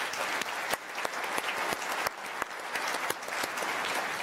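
Steady audience applause at a lecture series event, a dense wash of many hands with a few sharper individual claps standing out throughout.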